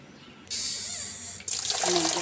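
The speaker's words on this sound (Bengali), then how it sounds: "এখন জল দিয়ে ভিজে নেব" Water runs from a tap onto roasted moong dal to soak it for vegetarian khichuri, a steady close splash that starts, pauses briefly, then resumes with a heavier pour.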